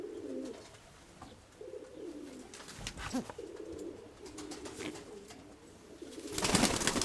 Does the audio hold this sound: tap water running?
no